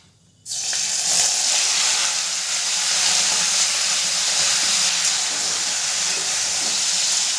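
Chopped tomato drops into hot mustard oil with a sudden loud hiss that settles into a steady, strong sizzle lasting several seconds, with no voices over it.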